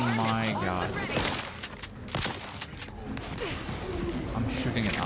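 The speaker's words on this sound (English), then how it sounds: "I'm shooting at Azza." Scattered gunshots and impacts in The Outer Worlds 2 sci-fi game ring out through a busy mix of music and effects, with people talking throughout.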